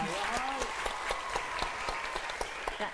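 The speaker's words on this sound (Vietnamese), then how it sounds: "vỗ tay" A studio audience at a Vietnamese dating show claps, a moderate patter of hands with distinct individual claps, while voices talk over it.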